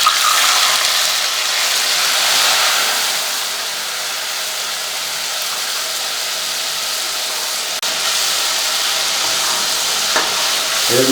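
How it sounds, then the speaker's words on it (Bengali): Ginger-tomato paste hits hot oil for a dhokar dalna and fries with a loud, continuous hiss that fades a little midway, then rises again with stirring near the end. "এই আমার আদা টমেটো বাটা এবার এতে দিয়ে দেবো।"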